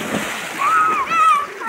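Water splashing as someone is given a bath, a short burst of nearby splatter while a voice speaks over it.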